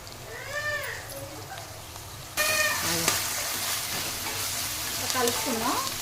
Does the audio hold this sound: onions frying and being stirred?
yes